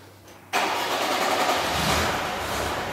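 A car's engine cranks and catches about half a second in, then settles into a steady, close, loud idle. The car sits on a workshop lift with filings added to its gearbox.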